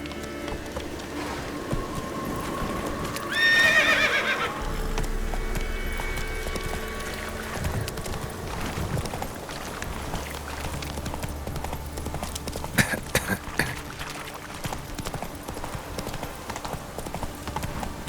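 A horse gallops in The Witcher 3, steady hoofbeats thudding under game ambience and music, with a short burst of louder movement near the start and a few sharp knocks later on.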